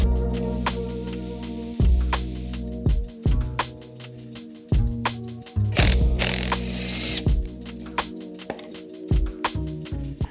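Oil sump bolts coming off a Ford Focus ST engine, with loud, close ratchet clicking in repeated bursts and brief pauses between runs.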